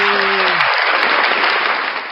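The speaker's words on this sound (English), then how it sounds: "Ladies and gentlemen, round of applause for Blackheart" Loud audience applause and cheering fills the whole stretch, steady and dense from start to finish, with a brief voice at the very start fading under the clapping.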